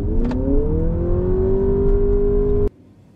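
Several cars launch together from a drag strip start line — a 2024 Toyota Camry TRD, a Nissan Altima SR and a Honda Accord — engines revving up loudly with rising pitch for a few seconds before cutting off abruptly.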